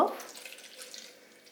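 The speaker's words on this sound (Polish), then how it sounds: "Do innego pojemnika wlewam resztę mleka czyli 200 ml." About 200 ml of milk pours into a container for homemade custard cream, making a short, soft liquid splash that fades quickly.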